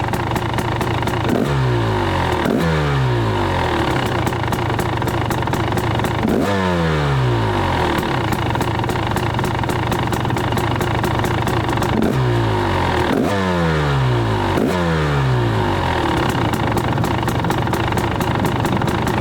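A 2024 KTM 300 XCW two-stroke dirt bike engine, started from cold, revs repeatedly in loud close bursts with falling pitch sweeps between blips, its exhaust carrying a deeper tone than stock.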